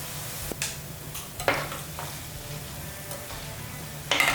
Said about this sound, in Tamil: மீதி இருக்கிற மாவையும் லைட்டாக எண்ணெயில் போட்டு பொரிச்சிடலாம்.